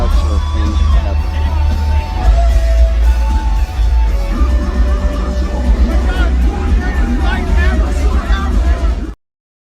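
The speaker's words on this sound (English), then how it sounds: "there's also another one from this festival where both Leah and Ash were crowd surfing together" Festival crowd cheering and yelling while people crowd surf, a loud dense roar of voices with bangs and whoops, playing back continuously before cutting off abruptly.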